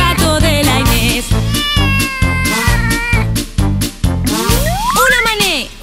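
A cartoonish cat meows in a bouncy children's song, with stretched, gliding calls and a rising swoop laid over a steady thumping beat. The cat sounds are loud and up front in the music.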